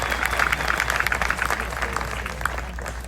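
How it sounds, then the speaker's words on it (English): Applause from an audience at a foundation's hosted event: steady, moderately loud clapping over a low electrical hum, thinning toward the end. "Let's give a round of applause."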